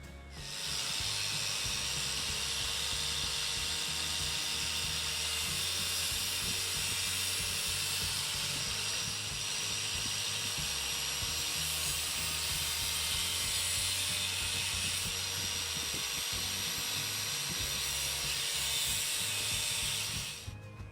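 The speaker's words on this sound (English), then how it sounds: "I know I shouldn't put a handheld grinder in a vise, but it's all I've got." A handheld angle grinder clamped in a vise cuts fibreglass for a motorcycle warning light unit, giving a loud, continuous high-pitched whine and hiss that holds steady for about twenty seconds without talk.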